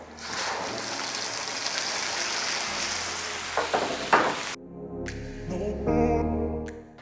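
Capsicum paste hits a hot pan with a loud, steady sizzle and hiss that runs for several seconds, then cuts out abruptly, leaving a few quieter clinks and stirring sounds, close by.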